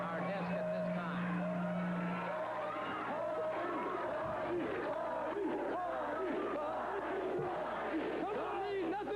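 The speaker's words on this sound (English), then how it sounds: "You can hear by the crowd that they are here" A wrestling event crowd roars and cheers in an arena, a dense, continuous swell of voices with shouts and whoops, an announcer's voice speaking over the noise.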